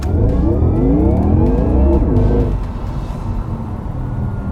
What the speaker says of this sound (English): listen to this 2-speed kick in